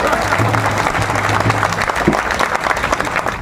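A big crowd claps loudly and continuously at a BJP Parivartan Yatra rally in Govindgarh town, a thick wash of applause with a low hum underneath.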